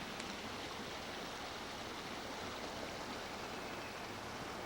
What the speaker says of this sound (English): A little bubbling brook.